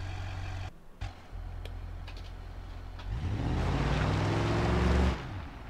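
Burnside Special car engine in BeamNG.drive starts up and revs, a low rumbling idle rising into a louder droning climb that cuts off near the end, heard alone with no talk.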